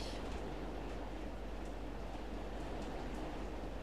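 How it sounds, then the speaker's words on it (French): Rain pours steadily outside open windows as a continuous dense hiss, loud and unbroken throughout, with no voices. "la pluie tombe"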